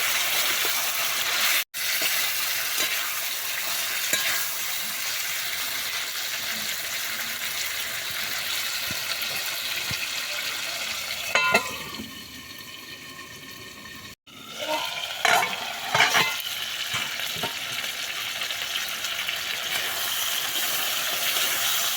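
Mutton slow-fries in a pan for Bengali mutton kosha, giving a long continuous watery hiss and bubbling, with brief interruptions and a burst of clinking stirring partway through; no speech.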